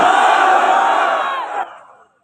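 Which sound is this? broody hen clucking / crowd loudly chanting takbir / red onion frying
crowd loudly chanting takbir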